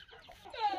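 A hen, one of several disturbed chickens, gives a short run of nervous clucks nearby, rising into a brief squawk at the end.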